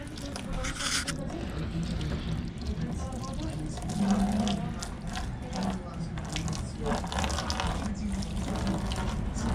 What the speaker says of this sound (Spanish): vamos a vaciarle la gasolina y el aceite